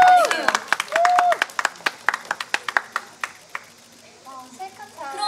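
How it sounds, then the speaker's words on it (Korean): Outdoor busking dance show audience clapping: a burst of crowd applause and cheers, then a run of sharp, evenly spaced individual claps close to the mic that thin out, with a voice talking near the end. "여러분 박수 드려야죠."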